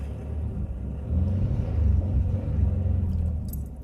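A 2000 Chevrolet Impala with a hard-start problem fires up and runs, a steady low engine rumble that swells as it catches and keeps idling close by, with no talking.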